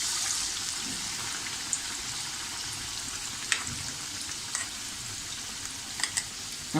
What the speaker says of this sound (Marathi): हे पॅटीस आपल्याला असे याच्यामध्ये छानपैकी घोळवून मिक्स करून असे तळून घ्यायचे आहेत